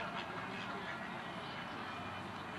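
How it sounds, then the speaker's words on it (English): Mallard ducks quack softly among resting geese outdoors, a steady low chorus of calls over continuous background noise with no talking. "Got a few mallards"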